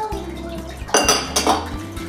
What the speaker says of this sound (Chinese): 用一个宽口点的铁锅拌馅是最好不过的